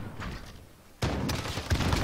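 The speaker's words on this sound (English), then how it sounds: "Get out of here with the shotguns, man." Shotgun fire in Call of Duty: Modern Warfare multiplayer, a sharp heavy blast after a quiet lead-in, followed by more booming shots and clatter at close range.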